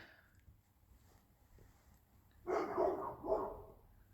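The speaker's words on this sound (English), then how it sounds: "The dog's barking behind me" A single dog barks a few times at a distance, two short barks in quick succession after a quiet stretch, set against faint low background rumble at night.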